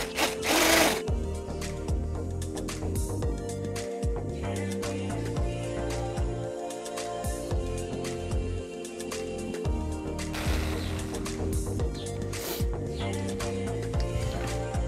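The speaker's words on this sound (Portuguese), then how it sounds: "No seu liquidificador você pode bater aí por uns 5 minutos" A blender beats chocotone batter with a steady, loud motor whir that runs continuously for the whole stretch, with faint clicks and bumps over it and no talk.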